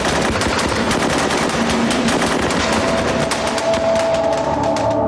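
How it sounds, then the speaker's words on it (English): Sustained machine gun fire from Viet Minh guerrillas shooting through the windows of a compound, loud dense bursts rattling continuously with no pause. "Viet Minh guerrillas who had crept silently into the compound opened fire through the windows."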